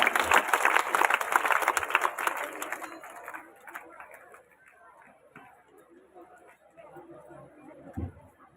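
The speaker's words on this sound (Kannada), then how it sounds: "ತಮ್ಮೆಲ್ಲ ಜೋರಾದ ಚಪ್ಪಾಳೆ ಬರಲಿ" An audience breaks into applause mixed with chatter, loud and dense at first and then fading into murmuring voices and scattered sounds.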